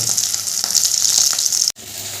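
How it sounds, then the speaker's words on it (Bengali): Banana flower chops deep-fry in hot oil with a loud, steady sizzle and crackle close up, cutting off abruptly before a quieter hiss resumes. "লাল লাল করে ভাজা তো হয়ে গেছে এবার আমি এগুলো তেল থেকে তুলে নেব"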